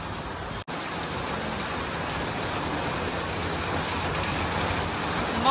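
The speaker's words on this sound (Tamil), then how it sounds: "ஊத்து ஊத்துன்னு ஊத்துது மழை." Heavy rain pours down in a steady, loud hiss that stays constant throughout, with a brief dropout near the start.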